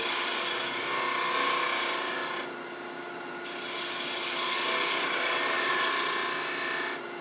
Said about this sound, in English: So I'm just going to go back to my 3/8 inch spindle gouge and just clean it up